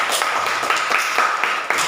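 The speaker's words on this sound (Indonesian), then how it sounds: "Beri tepuk tangan buat dia" A classroom of students claps for a classmate, giving a short burst of brisk, rhythmic handclaps close by, about seven or eight distinct beats over two seconds.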